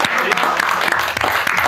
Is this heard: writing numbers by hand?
no